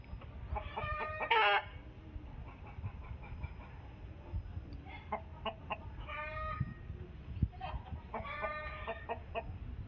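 Several chickens cluck in bursts, with a rooster's crow near the start, against a low background rumble on a farm in Kadapa.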